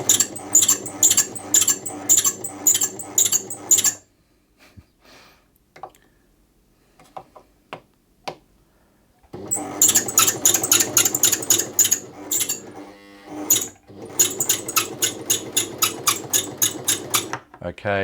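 A noisy domestic sewing machine with a dry shuttle race runs in a fast rattling clatter, stops for a quiet stretch with faint clicks while oil is applied, then starts again and keeps chattering.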